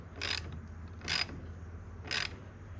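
A 10 mm wrench ratchets down a Jeep battery hold-down clamp in three separate quick bursts of clicking, close and distinct over a low background hum.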